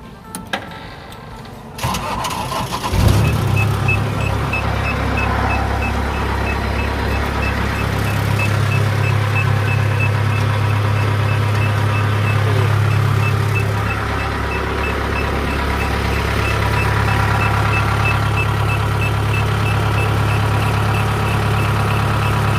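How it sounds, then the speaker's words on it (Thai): A used Kubota DC70G combine harvester's large diesel engine cranks and catches after a couple of seconds, then settles into a loud, steady idle with a faint repeating beep. "เดี๋ยวลองมาสตาร์ทเครื่องยนต์ก่อนนะครับ"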